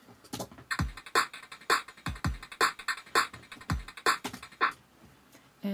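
Bit-crushed drums with gritty, lo-fi distorted hits, kick and snare punching in a steady groove with crunchy high-end fizz, loud and alone with no voice.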